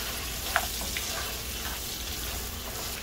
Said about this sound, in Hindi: इसको हमने ऑयल में फ्राई कर लेना